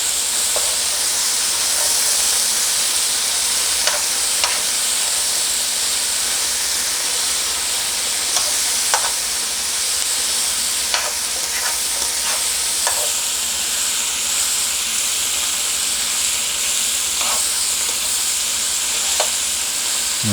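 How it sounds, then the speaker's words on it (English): Onions stirred with seasoning sizzle as they cook down in a pot for chicken tortilla soup, a steady close frying hiss broken by occasional soft crackles and spoon scrapes, with no talking. "let's allow the onions to cook down"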